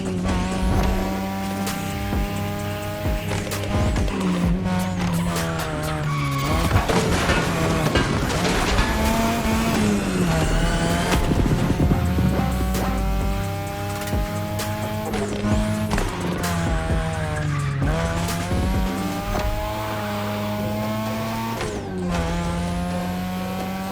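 Racing-game cars in The Crew Motorfest, including Porsche 911, Toyota, Ford Mustang and Mazda RX-7, roar with rising and falling engine revs, gear shifts and repeated loud tire squeals through corners, continuous and close with no voices.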